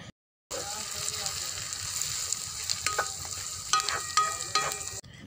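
Okra and onions frying together in a pan, a steady close sizzle with occasional clinks of stirring that runs almost unbroken from just after a brief silent start until the end.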